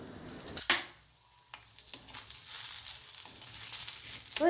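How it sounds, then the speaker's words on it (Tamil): Ginger for a chutney is sautéed in a pan, giving a quiet, steady sizzle with an early clank of utensil on metal and a few soft stirring scrapes. "இனிமேல் இந்த எடுத்து வச்ச இஞ்சியும் சேர்த்து இதிலே வதக்கிக்கலாம்."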